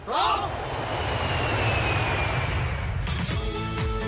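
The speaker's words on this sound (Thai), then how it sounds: "เครื่องบิน" An airplane engine roars steadily and fairly loudly throughout, a broad continuous rushing drone with a brief rising whine at the start.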